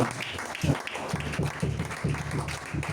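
Audience at a church seminar clapping together in a moderate, even burst of applause, with a voice talking over part of it.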